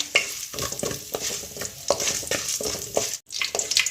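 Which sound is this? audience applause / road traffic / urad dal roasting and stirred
urad dal roasting and stirred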